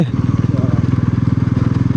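A motorcycle engine in sport mode thrums with a rapid, regular pulsing beat, loud and close, holding steady after a brief start.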